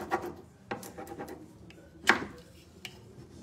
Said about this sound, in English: rub it good all over, and then you wanna pick a corner to start peeling up